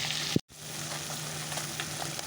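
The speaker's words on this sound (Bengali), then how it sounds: "চলো মাছগুলো ভাজা হতে যাক" Small fish frying in oil, a continuous close sizzle broken by one sharp clatter and a brief dropout near the start, then the crackling carries on steadily without voices.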